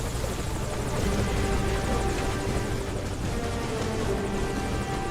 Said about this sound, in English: And this is why you call the chopper early.